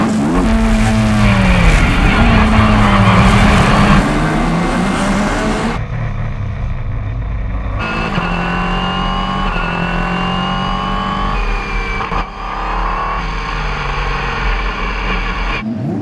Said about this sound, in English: some sweet, sweet footage of Nolan driving around the streets of Long Beach in the back of an Indy car